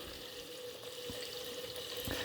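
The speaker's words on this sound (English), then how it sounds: "And then let's just add some water." Water runs into a cooking pan in a steady, soft, continuous pour with faint splashes, close and without talk.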